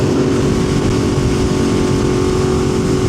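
A 2025 BMW S1000RR sport motorcycle engine runs steadily nearby, a loud continuous drone with no breaks or talk over it.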